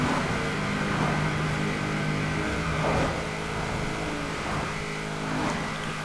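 A 1990 Mazda Savanna RX-7 in Forza Horizon 4 drones steadily as it accelerates, its engine note loud and continuous with a few shifts in pitch and no voices over it.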